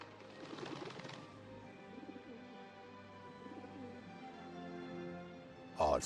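A dove coos softly in a short series of low, rounded calls, faint against a quiet background, ending with a brief louder clatter.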